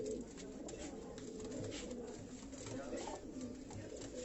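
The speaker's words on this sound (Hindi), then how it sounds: "ये कमगर स्टाफ के जो कबूतर हैं ये आपको दिखाए जा रहे हैं" Pigeons cooing steadily on a Karachi rooftop, a dense overlapping chorus of soft, rolling coos at close range, continuous throughout with no talk.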